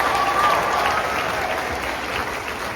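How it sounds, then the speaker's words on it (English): Steady applause from a high school choir concert audience for two performers, sustained and fairly loud throughout with a faint tone in the background. "of applause for Reese and Madison."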